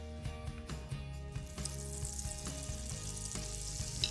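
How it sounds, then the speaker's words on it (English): Olive oil and a tablespoon of butter sizzling in a skillet, a steady frying hiss with music playing alongside and periodic soft thumps, continuous and fairly close. "we're going to add a couple of tablespoons of olive oil. And for a little bit of extra flavor, let's add in a tablespoon of butter."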